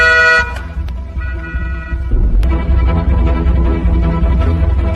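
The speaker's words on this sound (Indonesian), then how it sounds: "ia pun lekas membunyikan klakson beberapa kali untuk memastikannya" A car horn toots at the start over a running engine, then a steady motor rumble continues with traffic noise.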